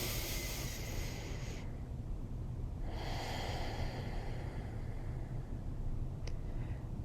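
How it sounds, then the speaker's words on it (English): Deep, steady breaths during a hatha yoga flow, with long airy inhales and exhales drawn close to the mic. The breaths run continuously and fairly loud, with no talking. "Nice big deep breaths."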